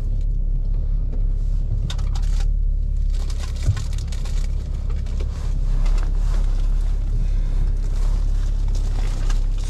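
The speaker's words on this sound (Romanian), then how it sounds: "Ce tremură motorul?" A car's engine rumbles and shakes while the car manoeuvres in a supermarket parking area. A steady, heavy low drone with rough broadband noise runs throughout, close and fairly loud, with no speech.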